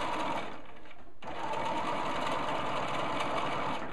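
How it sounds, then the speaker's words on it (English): A sewing machine joins two lengths of white fleece into a carrot root fly barrier, a close, loud, steady rapid whir that pauses briefly once, then runs on. "sewing 2 lengths of fleece together so as we can put a barrier to stop the carrot root fly"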